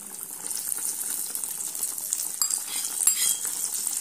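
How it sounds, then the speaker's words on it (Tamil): Fried cashews and raisins being stirred into ragi semiya payasam, giving a steady metallic scrape and soft clinks of a spoon against the pan with a faint simmer underneath, close and moderately quiet, with no talking. "இப்ப திராட்சை முந்திரியை உள்ள சேர்த்துக்கலாம்."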